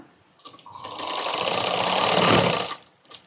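A sewing machine stitches fabric for a baby frock in a short, smooth burst of rapid whirring that swells and then stops, with faint clicks before and after.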